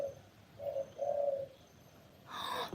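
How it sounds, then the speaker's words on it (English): A dove gives three soft, rounded coos close by. They are followed by a brief burst of broad rustling noise. "There's like a beautiful dove right here."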